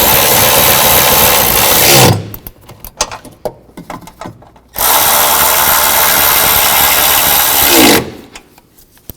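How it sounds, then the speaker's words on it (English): A power tool whirs loudly in two long bursts, tightening the nuts on the torque strut engine mount of a Chevy Traverse, with clinks and ratchety handling noises between runs. "And tighten the two nuts down first."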